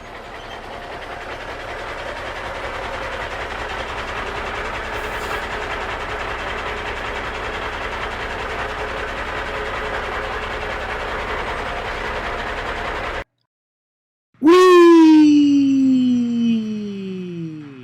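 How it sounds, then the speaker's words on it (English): A train passes on a railway with a steady, loud rumble and rattle for about thirteen seconds. It cuts off abruptly, and a brief falling whistle-like tone follows. "I like to explore trains and other big machines."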